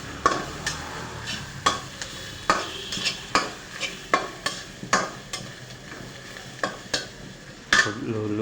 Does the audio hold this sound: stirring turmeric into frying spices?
yes